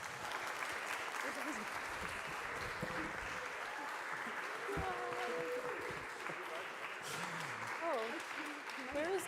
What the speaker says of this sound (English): So a round of applause and a bow for our cast.